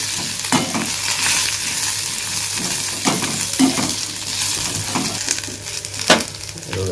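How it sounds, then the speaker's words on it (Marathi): Chopped onions sizzle and fry in hot oil as the base for a prawn masala, with steady crackling broken by a few louder stirring scrapes of a spoon in the pan. "मस्त कांदे व्यवस्थित भाजला पाहिजे, फ्राय करायला पाहिजे"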